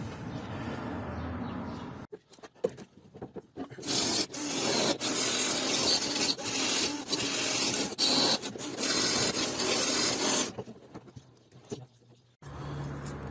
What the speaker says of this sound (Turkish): Şimdi biraz da tel çekeceğim.